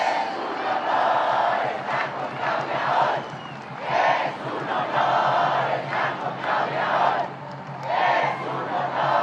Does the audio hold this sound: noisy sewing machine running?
no